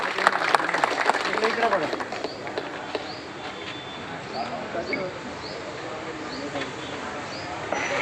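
An audience at a free community event in Maharashtra applauds with steady, dense clapping that fills the whole stretch, while a voice speaks over it near the start.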